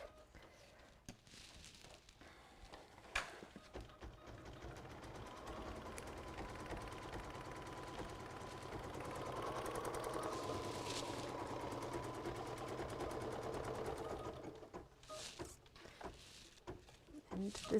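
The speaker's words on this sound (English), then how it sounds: "we're going to embroider a placement line" An embroidery machine stitching a placement line on orange fabric with cream thread whirs with a steady mechanical hum, building slightly through the middle and stopping near the end, with faint clicks at the start and close.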